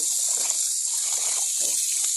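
Tap water runs over raw chicken pieces being rinsed before cooking, a steady close hiss of flowing water with small splashy variations.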